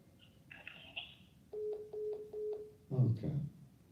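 Telephone keypad tones: a few higher beeps, then a steady run of four or five evenly spaced touch-tone dialing pulses, followed by a louder, muffled burst at the end, all close and clear.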